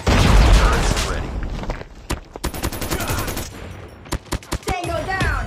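Rapid automatic turret gunfire in the mobile video game Call of Duty Mobile, loud bursts of shots and sharp cracks mixed with heavy booms and in-game voice chatter throughout.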